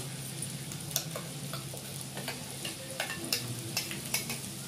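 Stuffed brinjal curry with masala fries softly in a pan while a spoon stirs it, light ticking scrapes recurring over a faint, steady sizzle.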